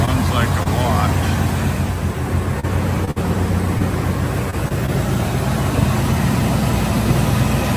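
A muscle car fitted with headers and a dual exhaust idles at a steady low rumble, with voices talking over it throughout.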